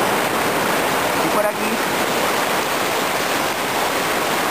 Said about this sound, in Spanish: Río de la quebrada de Huertas.